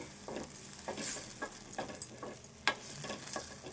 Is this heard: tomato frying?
yes